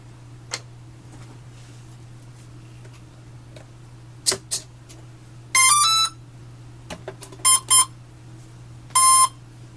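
An RC plane's electronic speed controller gives short tonal startup beeps after power-on, in a few separate bursts over a constant low hum, with scattered faint clicks between them.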